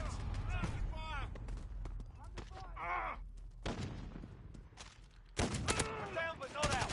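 Gunfire in the Modern Warfare video game: bursts and volleys of rifle shots crack out repeatedly, loud and close, mixed with shouted voices over the combat.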